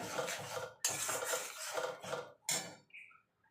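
A utensil scrapes and stirs spices in a pan while an egg curry is being cooked, making several close, gritty scraping strokes separated by brief pauses, with no talking.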